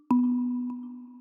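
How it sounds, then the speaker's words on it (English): A single synthesized kalimba note, bright and bell-like, ringing out and slowly decaying, with a faint second tap partway through. "I'm actually using two different sounds of kalimba."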